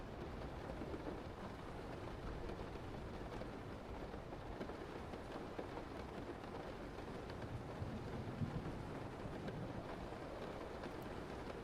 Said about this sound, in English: I have the Rain playing in Chrome.